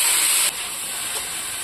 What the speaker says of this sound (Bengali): পেঁয়াজ ভাজা ভাজা হয়ে গেছে, লাল লাল হয়ে গেছে, আর দেখো আমি সবজিগুলো ঢেলে দিচ্ছি